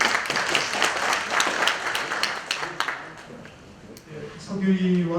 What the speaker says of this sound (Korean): 예, 박수 한번 해주시죠.